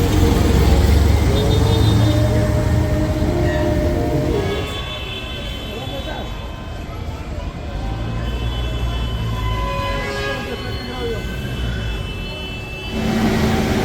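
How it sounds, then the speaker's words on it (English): A Lima metro train sounds close and loud, with rail rumble and rising and falling mechanical whine as it passes. Voices can be heard faintly in the background. "And here's another way to travel, look, the subway."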